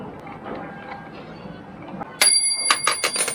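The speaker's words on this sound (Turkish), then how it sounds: "Duydunuz zilin sesini" A bicycle bell rings out suddenly after a quiet stretch, several bright metallic rings in quick succession, loud and close, heard during maintenance of a Selva 2.5 hp outboard boat motor.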